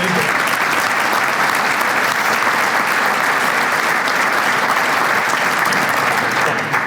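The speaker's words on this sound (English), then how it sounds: "give them a big round of applause together" A hall of fame ceremony audience gives a big round of applause, dense, loud and steady clapping filling the room from start to finish without a break.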